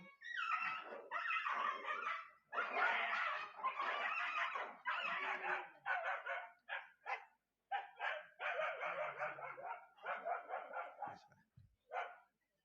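Dogs bark in a rapid, continuous series of loud, close yelps and barks with brief gaps between bursts, tapering to a few final barks.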